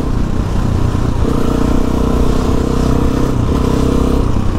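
Suzuki DRZ400E supermoto motorcycle engine running close and loud, a steady throbbing single-cylinder drone with faint pitch shifts as it idles and revs slightly, alone without talk.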